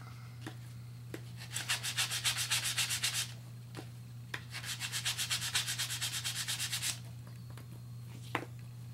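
Dark gray patina being rubbed off a raised metal area, two long runs of quick rhythmic scrubbing strokes separated by a pause, close and fairly quiet over a steady low hum.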